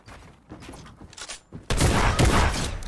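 Rapid bursts of gunfire in the video game Fortnite, a few scattered shots at first, then a loud dense barrage that holds steady to the end.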